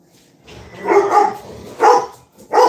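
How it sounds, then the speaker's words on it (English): A dog barks indoors in a house, sounding loud and close as a burst of two barks and then two more sharp barks with short pauses between. "Bark, go outside and bark."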